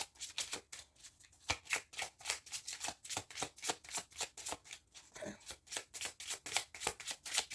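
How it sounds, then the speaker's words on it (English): A deck of tarot cards riffled and shuffled over and over in quick, steady bursts, each one a crisp papery flutter, close and fairly quiet with no talking. "I will shuffle it one more time and see what else comes out."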